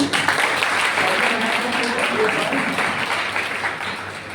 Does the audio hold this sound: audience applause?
yes